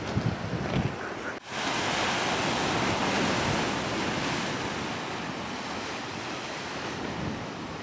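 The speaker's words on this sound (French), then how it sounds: "On sent les vagues faire trembler le métal" Ocean waves crash against the metal hull of a stranded ship on the volcanic Piton de la Fournaise coast, a loud, steady surf roar mixed with wind buffeting the microphone, after a brief thump near the start.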